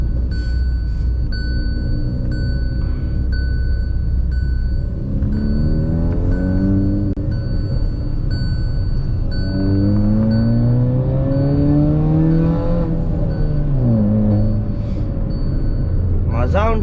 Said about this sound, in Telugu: స్వీట్ మెలోడియస్గా వస్తుంది ఎగ్జాస్ట్ది.